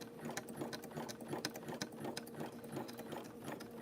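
A sewing machine stitches rope into a coiled rope bowl, running steadily at moderate volume with a continuous rapid needle chatter throughout and no talking.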